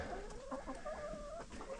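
Chickens in a coop cluck and murmur softly at close range, with several overlapping short calls and warbling notes over a faint background hum.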